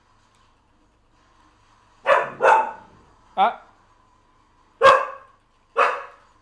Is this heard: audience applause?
no